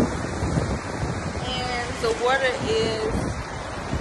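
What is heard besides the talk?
beach surf and waves in California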